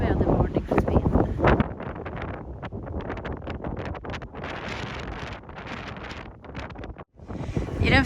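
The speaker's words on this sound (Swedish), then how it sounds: "I den friska vinden" Strong, gusty wind roars in broadband bursts against the microphone beside the Bay of Naples near Sorrento, loud and steady throughout, with a short drop near the end before it surges again.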